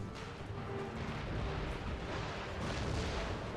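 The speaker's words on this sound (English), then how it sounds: "Tons of cannon fire coming in here." Dense, continuous rumbling booms of cannon fire in the video game Imperial Destroyer roll together into a heavy, loud barrage with no pause.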